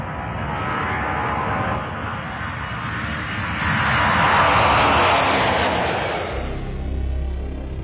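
A turbojet engine running: a broad, loud jet roar that swells and brightens in the middle, then settles into a deep low rumble at the end, with no voices.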